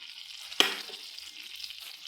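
Popcorn kernels tip into a hot pan of melted butter and sugar with one sharp clattering burst, followed by a steady, close, moderately loud sizzle that carries on alone without any talking.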